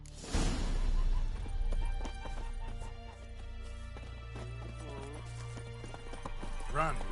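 Roach the horse gallops in The Witcher: Wild Hunt, rapid rhythmic hoofbeats pounding steadily up close with a brief whinny, set against game music and ambient sound.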